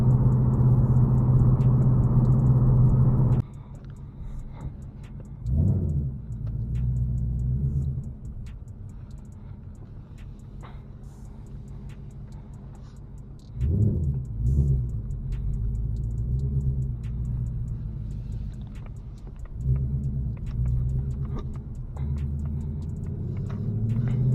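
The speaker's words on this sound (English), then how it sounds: "it's gonna be mostly just highway driving until I almost get to where I need to go" Interior road noise from a 2024 Ford Mustang GT cruising on a highway: a loud opening engine drone drops to a steady low rumble, with a few brief swells as the car accelerates, and no talking.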